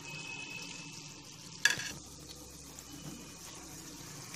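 Gulab jamun dropped into oil and frying over low heat, a faint bubbling sizzle with one sharp clatter near the middle, quiet and close.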